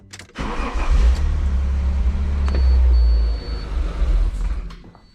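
Alfa Romeo 147 GTA engine cranking and catching, then idling with a deep, loud rumble that swells briefly before dropping off, close up with no speech.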